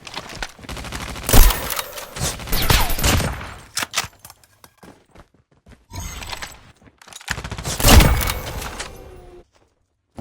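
Gunfire in COD Mobile comes as bursts of rapid automatic shots and sharp single cracks in two main clusters separated by brief near-silence.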